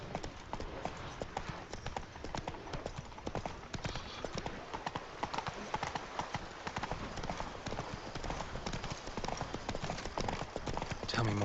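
Hooves of a horse in a video game gallop in a fast, steady clip-clop rhythm, close and continuous, with a few faint horse snorts mixed in.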